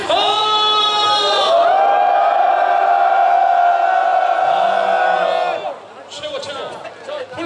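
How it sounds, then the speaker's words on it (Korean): A large crowd at the start of the 2017 Cherry Marathon half marathon lets out a loud, sustained unison shout and cheer that holds for about five seconds, then drops into scattered voices and clapping. "하품아 전방을 향해서 함성"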